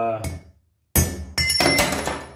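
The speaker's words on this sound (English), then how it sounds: "we'll drive these things in using our guide driver and hammer" A hammer strikes a guide driver, several sharp metallic blows ringing up close, with a quiet pause before the later quick strikes.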